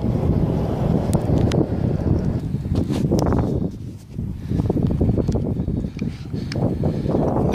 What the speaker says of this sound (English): Very windy, hopefully you can hear me.